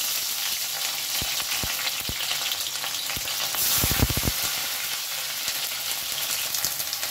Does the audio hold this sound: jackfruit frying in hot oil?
yes